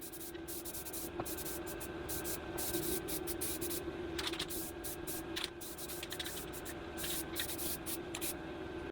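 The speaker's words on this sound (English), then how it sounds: "Time to break out the paint. Do a little dusting on there and see how it looks." Short bursts of aerosol spray paint dusting a truck's front axle and steering knuckles in a garage, a series of quiet hissing puffs with brief pauses between them over a low background hum.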